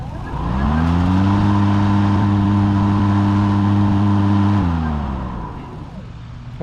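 An EGO electric lawn mower running on turbo mode spins up into a loud, steady, tonal whine that holds for several seconds, then winds down and fades near the end.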